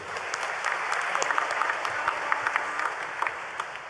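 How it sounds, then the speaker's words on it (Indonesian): Church congregation applauding the choir during a Sunday Mass, steady dense clapping from many hands filling the room, with no voices over it. "Mari kita beri aplaus untuk kur kita"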